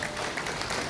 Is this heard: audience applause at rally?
yes